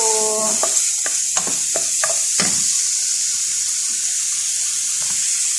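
Ingredients sizzle and get stirred in a hot pot as the base for a mushroom soup is sautéed, a steady loud hiss with a few sharp clinks of a utensil early on, and no talk.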